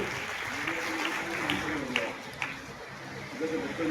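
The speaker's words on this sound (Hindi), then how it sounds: "जोरदार तालियों से स्वागत बच्चों।" An audience at an Antyodaya Foundation event with a minister applauds schoolchildren, a steady wash of crowd clapping at moderate distance with a voice speaking over it.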